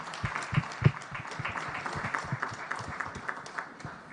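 An audience at the launch of a refugee and host community response plan in Uganda gives scattered, moderate hand clapping, a loose irregular patter of claps with a few sharper close hits near the start.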